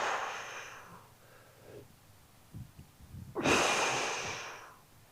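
Slow, deep breaths during a beginner yoga back stretch: a long exhale, a pause, a few soft snuffly sounds, then a loud, drawn-out breath close to the microphone.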